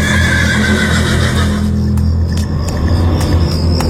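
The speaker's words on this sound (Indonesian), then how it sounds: "Seiring dengan suara langkah kuda dan suara kuda yang semakin dekat." Horse hooves and a whinnying neigh as a radio drama sound effect, loud and dense throughout, with the neigh early and hoof clatter continuing as it comes closer.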